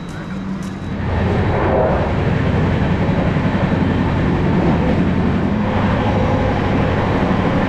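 The 13021 Mithila Express from Howrah toward Raxaul runs along with a loud, steady rushing roar of wheels and carriages that swells in after a quieter first second and holds constant, no voices heard.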